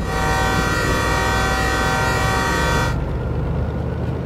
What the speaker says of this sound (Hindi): चलो फिर एक अच्छा सा हॉर्न देते हैं